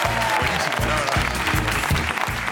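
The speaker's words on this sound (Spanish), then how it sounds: "fortísimo aplauso para Asier Mazo" Loud, dense applause from a television studio audience on a Spanish entertainment show, greeting a university ultrasound professor as he is introduced, with a rhythmic band or beat pulsing underneath.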